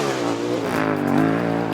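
A car engine fitted with a performance exhaust revs with a loud, steady, raspy drone that rises and falls slightly, heard up close and alone.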